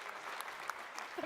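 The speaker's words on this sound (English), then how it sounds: "Give a round of applause for Proxy." Faint applause at a roast event honouring Proxy, a brief steady patter of clapping lasting just over a second with a few sharper claps standing out.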